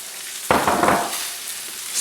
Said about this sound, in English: Stir this in right quick.